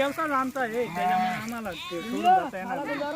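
Sheep and goats bleating in a traveling shepherds' flock with bullock carts, several overlapping wavering calls close by and fairly loud, with no talk.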